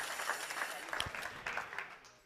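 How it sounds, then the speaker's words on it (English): An audience applauds for Doris at a company meeting, with brief, moderately faint clapping that trails off over a couple of seconds. "If we could just give one big round of applause for Doris"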